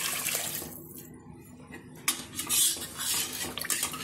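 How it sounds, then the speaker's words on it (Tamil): Water poured into a cooking pot in a home kitchen while preparing a meal, with clattering pot and utensil sounds and a splashing pour close by. "இப்போ தண்ணி ஊற்றிட்டு"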